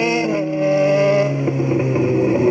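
A Yamaha XJ6 motorcycle engine holds a steady, loud, high rev throughout, with a strong harmonic drone that rises slightly near the end. No voices are heard.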